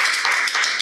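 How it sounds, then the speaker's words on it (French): A dense burst of audience applause at a French vocational school student debate event, a brief wash of many hands clapping close and loud. "je demande quelques applaudissements pour Ethan."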